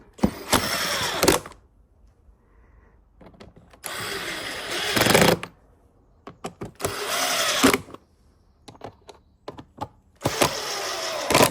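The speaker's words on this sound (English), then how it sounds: "get our screws back in there. Just remember, these screws are only going into plastic, so don't force them in." Short bursts of a cordless power screwdriver drive screws into a plastic Audi air filter housing, four whirring runs separated by quiet pauses with small clicks and handling noises.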